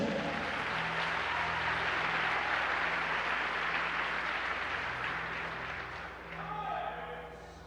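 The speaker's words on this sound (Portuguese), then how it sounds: "Aplauda Jesus." A church congregation claps steadily and loudly for several seconds during a sermon, a dense wash of hand claps that tapers slightly near the end.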